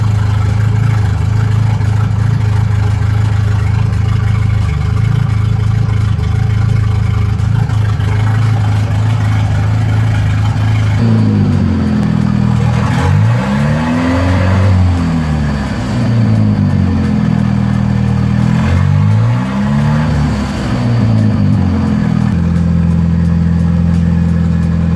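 A Volvo drift car engine idles with a steady low drone, then revs up and down in repeated rising and falling sweeps before settling back to idle, close and loud with no voices.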